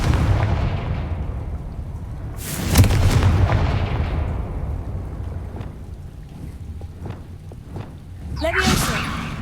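Confringo fire spell cast in Hogwarts Legacy: two sharp explosive bursts, one about a third of the way in and another near the end, over a steady low rumble and a few lighter impacts.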